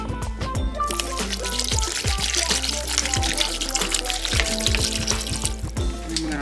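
Water pours steadily into a blender over garlic powder, onion powder, seasoned pepper and salt for a turkey wing seasoning, a close, continuous splashing trickle with background music playing underneath.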